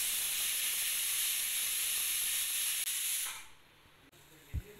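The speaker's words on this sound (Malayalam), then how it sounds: "ഹൈ ഫ്ലെയിമിൽ ഒരു വിസിൽ കേട്ടിട്ടുണ്ട്." Steady loud hiss of steam venting from a pressure cooker weight on high flame, cooking prawn biriyani, holding for several seconds before cutting off abruptly into quiet, with a brief knock at the end.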